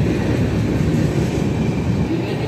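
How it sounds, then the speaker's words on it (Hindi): A train rolls through Laxmibai Nagar railway station in Indore without stopping, a loud, continuous, close rumble of wheels and carriages filling the whole stretch, with no voices. "इंदौर राजेंद्र नगर पटना, ये पटना जाएगी, मतलब हर ट्रेन यहाँ से गुजरती है बट रुकती बहुत कम ट्रेनें हैं"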